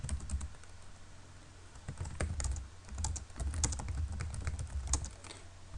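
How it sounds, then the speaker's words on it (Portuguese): Keystrokes tap out text on a computer keyboard in irregular bursts of quick clicks over a low steady hum, close and moderately loud, with no voices. "você pode digitar o seu texto normalmente"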